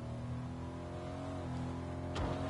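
Car driving up in the video game Fortnite, a steady engine drone with harmonic tones rising slightly as it nears, ending in a short loud burst, heard alone without talk.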